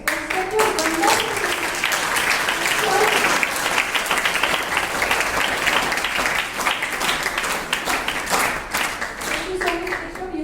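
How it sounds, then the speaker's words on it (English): A school audience at an inter-house science quiz competition applauds steadily for about ten seconds, a dense, fairly loud wash of many hands clapping with no break. "please have a big round of applause"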